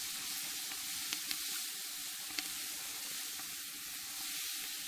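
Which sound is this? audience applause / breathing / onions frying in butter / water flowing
onions frying in butter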